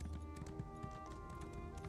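A horse gallops in the video game Elder Scrolls Online, a quiet, rapid clip-clop of hooves repeating steadily over a low background hum.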